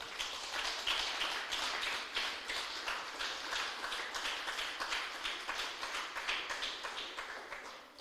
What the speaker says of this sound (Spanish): Denle un aplauso fuerte al Señor, aleluya.